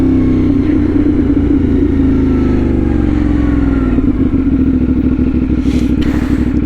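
A CFMOTO 450SS motorcycle fitted with a new aftermarket exhaust idles and revs nearby, a loud throbbing engine note whose pulses grow more distinct and clattery in the second half.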